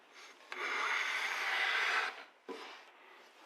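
A hand plane takes thin through shavings off the edge of a veneered wood door, giving one long, smooth rasping stroke of about a second and a half, then a shorter, fainter pass, close up and otherwise quiet.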